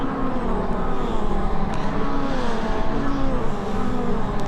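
Race cars roar around Croft circuit in a close pack near the inside tyre stack, a loud continuous drone of engines with layered revs, no voices over them.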